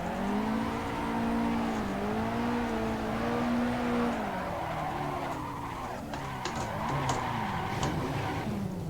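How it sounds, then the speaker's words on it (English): Simulated cars drifting in the Assetto Corsa racing game on a canyon course: a droning engine with shifting pitch, then tire squeal and skidding with sharp clicks, steady throughout with no talk. "I hear cars."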